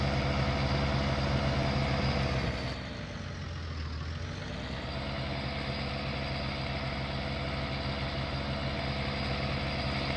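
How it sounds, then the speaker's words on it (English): An old Ford truck engine in Farming Simulator 19 idles in a steady, throaty rumble, dipping briefly in pitch partway through before settling back to an even drone. "Love the way this old Ford sounds."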